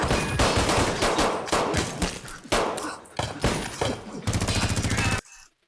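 Rapid bursts of gunfire from an action film scene, dense and loud for several seconds, with a stretch of fast machine-gun-like rattling near the end before it cuts off.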